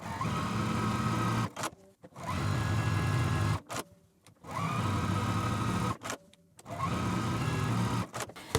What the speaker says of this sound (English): take this over to the sewing machine and sew around all 4 corners